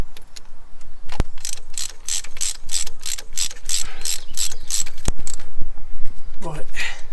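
A ratchet wrench clicks in quick repeated bursts while a new spark plug goes into a 1989 Volvo 480, with a couple of sharp metallic knocks between strokes and a brief voice near the end.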